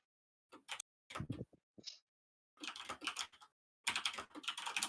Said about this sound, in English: we can hear the Alright. clickety clack of your keyboard